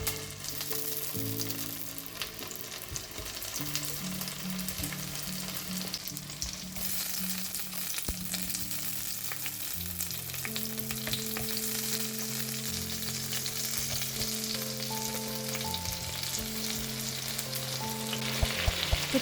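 Potatoes sauté in butter and vegetable oil with a steady, close crackling sizzle that holds throughout, under a soft background music bed and no voices.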